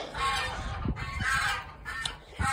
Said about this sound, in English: We got the geese over there